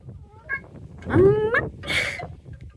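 A large cat outdoors on a farm gives a couple of meows, a short soft call followed by a louder rising and falling meow, then a brief rustle.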